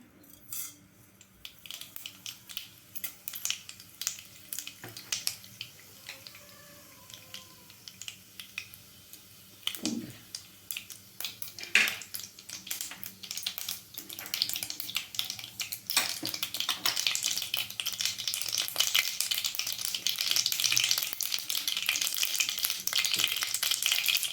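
Mustard seeds hit about two spoons of hot oil in a pan for a snake gourd and moong dal stir-fry. Scattered pops and clinks build into a dense, loud, continuous crackle in the latter half.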